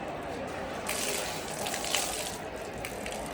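Water poured over a small child's head before a ritual head-shaving, a steady gushing splash that swells after the first second and continues close and even.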